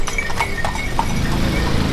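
Donkey hooves clip-clop in a steady, quick rhythm on a Moroccan street, fairly close, mixed with busy ambient background noise and no speech.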